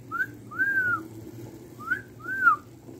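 A person whistles four rising-and-falling notes in two pairs, close and clear over a low hum, while pichocos cook in the Totonacapan region of Mexico.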